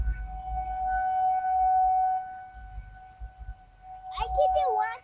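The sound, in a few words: civil defense tornado warning siren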